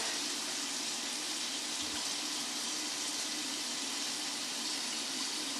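Water runs steadily from a tap, a constant hiss of flow at moderate level with no speech.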